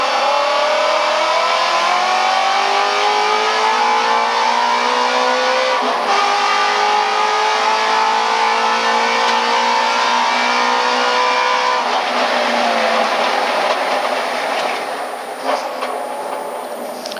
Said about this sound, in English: This car carries a lot of speed through there on a hot lap